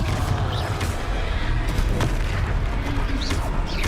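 A Confringo fire spell explodes in Hogwarts Legacy with a dense, loud rumbling boom and crackling blasts that fill the short stretch without letup, alongside scattered game effects.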